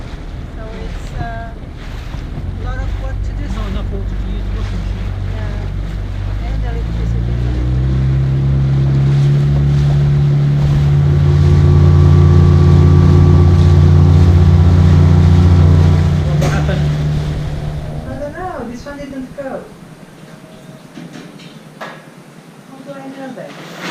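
A rigid inflatable dinghy motors to town over open water, its outboard engine droning steadily and swelling louder midway before fading, with wind buffeting the microphone and water rushing close by.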